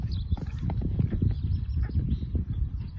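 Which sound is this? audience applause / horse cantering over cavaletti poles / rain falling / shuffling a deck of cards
horse cantering over cavaletti poles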